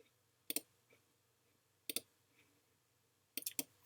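A computer mouse clicks sharply in quiet surroundings, with single and double clicks spaced a second or so apart, close and crisp with no voice.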